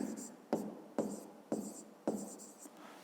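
A pen writes by hand on paper while a math exercise is solved, giving quiet close scratching strokes in short repeated bursts about every half second.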